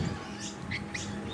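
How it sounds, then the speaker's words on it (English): Parrots call from a Madagascan poinciana tree at a bird sanctuary, giving short, bright chirps that stand out against a dense, steady background hum. "Because they're parrots, and you get parrots in Africa as well, of course."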